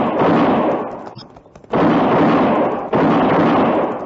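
Loud, close gunfire bursts from a radio drama in an old western setting, with two heavy blasts separated by a brief lull, each leaving a long noisy decay.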